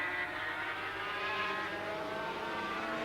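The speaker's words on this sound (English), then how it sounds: "Franco Ancini on the bike number 10" A blue Suzuki racing motorcycle prepared by Roberto Gallina howls at high revs during the 1982 Dutch GP, its engine a steady, loud, continuous wail with a dense crowd-like wash behind it and no speech.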